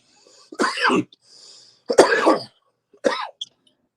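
Three harsh, close coughs come one after another with short pauses between them, loud and raspy with no talking.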